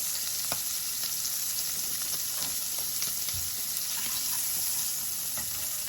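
Seafood browns in a hot pan, giving a continuous bright sizzle scattered with small pops and crackles, close and steady with no voices.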